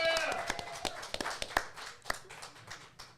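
A small studio audience claps for the candidates after a ward election debate. The applause is brief and scattered, with uneven claps that thin out and fade within a few seconds.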